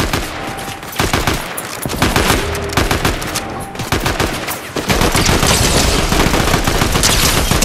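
Gunfire in a Fortnite Zero Build match, a dense, loud mix of sharp shots and rapid bursts throughout, with sniper fire among them and heavy battle noise.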